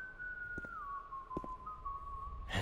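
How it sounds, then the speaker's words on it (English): A character whistles a single sustained note in the video game Yesterday, the tone sliding down slightly and then holding, fairly clear against soft background sounds with a few faint clicks. "And Henry is whistling in the pit."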